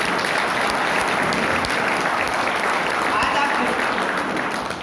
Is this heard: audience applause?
yes